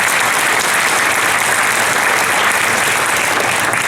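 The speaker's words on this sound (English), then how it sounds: "So let's have a round of applause for Maria Larson." Sustained applause from a conference audience at an official inauguration, steady and dense clapping filling the whole stretch at even loudness with no voices over it.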